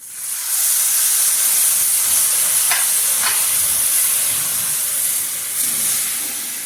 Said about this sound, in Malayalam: ഇനി പുളിവെള്ളം ഒഴിക്കുകയാണ്.